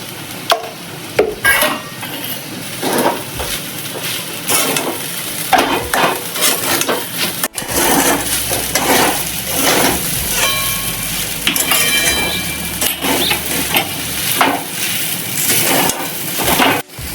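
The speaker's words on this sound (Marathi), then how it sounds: "पूर्णपणे मिक्स करून घ्यायचे." Sabudana khichdi is stirred and mixed in a pan with a spatula, making repeated close scraping and shuffling strokes over a light sizzle, with no voices over the sound.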